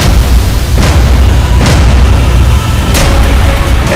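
Movie trailer explosions: dense, loud, continuous rumbling booms with a few sharper blasts layered over a heavy low-end roar.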